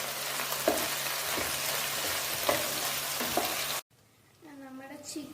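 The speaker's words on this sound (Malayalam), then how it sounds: "വന്ന ഉടനെ നമുക്ക് ജിഞ്ചർ ഗാർലിക് പേസ്റ്റ് ആഡ് ചെയ്യാം. അപ്പോൾ അതിൻ്റെ ഒരു പച്ചമണം മാറുന്ന വരെ നമുക്ക് ഒന്ന് ഇളക്കി" Ginger garlic paste sizzles steadily in hot oil in a pan while being stirred for a masala chicken dish, with occasional scraping knocks, then the sizzle cuts out and a voice speaks.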